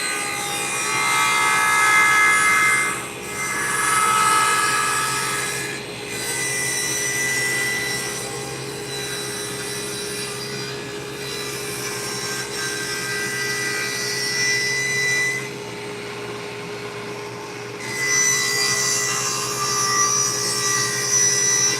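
A wood planer feeds a board for a console table, giving a sustained whining drone with a steady hum underneath that surges louder in several passes, with no voices.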